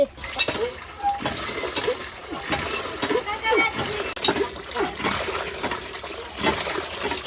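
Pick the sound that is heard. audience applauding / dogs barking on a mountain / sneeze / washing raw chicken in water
washing raw chicken in water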